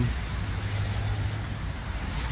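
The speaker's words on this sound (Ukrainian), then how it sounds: "Їде ось такий тракторець, їде до свого власника." A small SF-244CL tractor with a YTO engine and forced hydraulics drives along, its steady low engine drone running continuously beneath a wash of wind-like noise, with no talking.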